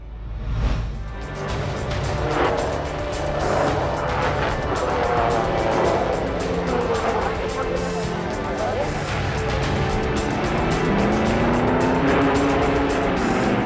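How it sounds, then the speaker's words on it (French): Vintage 1930s Grand Prix race cars on the winding Pau street circuit, engines roaring loudly and continuously as they pass, with a rising engine note toward the end. "l'Italien Nuvolari sur son Alfa Romeo, les pilotes actuels continuent de parcourir le même tracé sinueux qui fait de Pau un circuit de légende."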